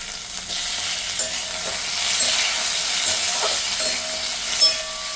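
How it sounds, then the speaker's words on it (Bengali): Sliced tomato and fried ginger sizzling in hot oil with spices in a pan for a Bengali fish curry, a steady broadband crackle and hiss with occasional stirring scrapes, close and continuous with no talk. "টমেটোটা একটু হালকা ভেজে"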